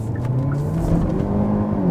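A 2022 Hyundai Elantra N accelerating hard in normal mode, its engine note climbing steadily and loud from inside the cabin, with no other sounds.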